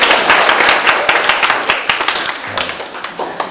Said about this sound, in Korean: 이럴 때 박수 한번 치는 겁니다.